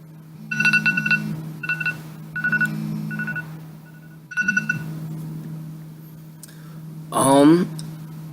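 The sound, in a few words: phone timer alarm going off after 5 minutes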